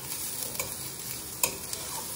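Onions sautéing in a pan, heard as a steady close sizzle with a spatula stirring and giving a few sharp scrapes and clinks.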